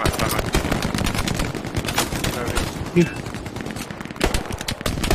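Machine gun fire in the World War II shooter Hell Let Loose, fast bursts of shots crackling close and loud with some distant gunfire behind, and a brief voice partway through.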